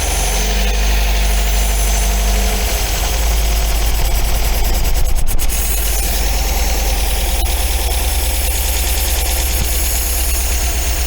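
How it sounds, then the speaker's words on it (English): An MGB engine idles roughly while barely firing on one cylinder, a loud, close, uneven rumble with a slight knocking pulse and a brief rise in rhythm midway, running continuously with no voices. "I'd say it's barely running on that cylinder."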